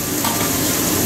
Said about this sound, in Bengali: পনিরগুলো দিয়ে নাড়িয়ে ছাড়িয়ে নিয়ে দিয়ে দেওয়া হচ্ছে একটু জল